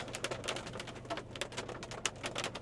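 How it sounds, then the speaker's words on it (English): Steady raindrops patter across a Mercedes-AMG GLA45S, a dense irregular tapping that runs continuously and fairly close, with no talking. "it's getting difficult to record here with constant raindrops"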